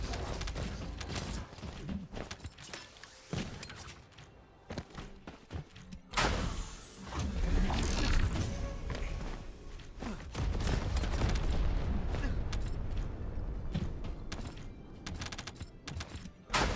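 A summoned turret in The First Descendant fires in dense rapid bursts amid game sound effects, loudest in sustained stretches mid-clip and toward the end.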